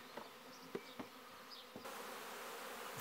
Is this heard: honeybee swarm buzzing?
yes